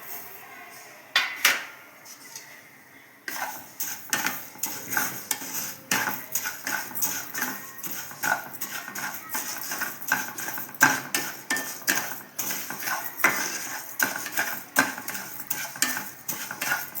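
Cumin and fennel seeds are dry roasted in a pan for a chilli chutney, with rapid, uneven scraping and metallic clinking as a spoon stirs against the pan close up.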